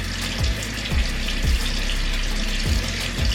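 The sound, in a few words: water running as hands are wetted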